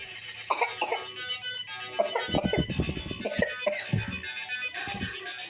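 Several coughs in separate bursts, close and fairly quiet, with throat-clearing sounds between them.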